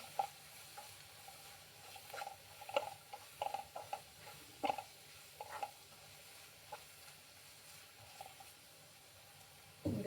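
Sliced ladies finger (okra) fries in oil over a low flame, a soft continuous sizzle with intermittent stirring scrapes and light taps from a spoon in the pan.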